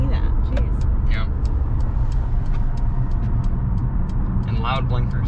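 A 2021 Mercedes-Benz GLA 250 turn signal ticks in a steady run of crisp, fairly loud clicks inside the cabin, over a constant road and engine rumble, with people talking.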